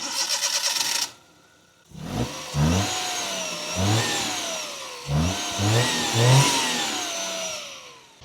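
A 2005 Maruti 800 with its F8 engine cranks and catches after a brief pause, then idles and revs in several rising surges, a small engine heard close and clear with no talking.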